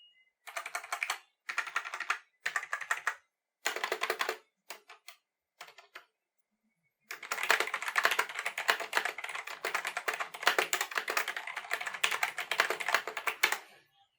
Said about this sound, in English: let's do a quick typing test so that you can have an idea how this keyboard sounds